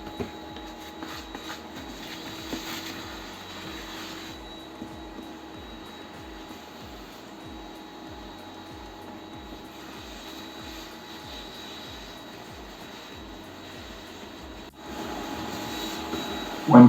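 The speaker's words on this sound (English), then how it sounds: "Take the brush and the vacuum cleaner and continue to remove dirt and grass" A vacuum cleaner removing dirt and grass from a robotic lawnmower drones steadily at moderate volume with a faint rhythmic ticking underneath, swelling louder near the end.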